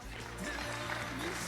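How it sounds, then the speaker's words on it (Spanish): Brief burst of applause from a congregation at a Spanish-language church gathering, moderately loud with talk and a low hum underneath. "¿Le podemos dar un aplauso a Jesús?"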